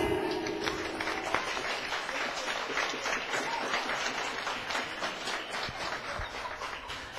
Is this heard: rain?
no